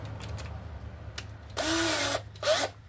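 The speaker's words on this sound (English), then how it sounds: "get the bit into the drill, line her up." A cordless power drill, used to build a bird feeder from reclaimed pallet wood, whirs loudly in two short bursts, one lasting about half a second and then a quicker pulse, after some light clicks and handling noises.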